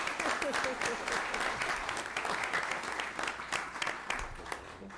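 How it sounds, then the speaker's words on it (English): Audience applause fills a commission meeting room, a steady wash of many hands clapping throughout with faint voices mixed in underneath. "so we can give you some applause"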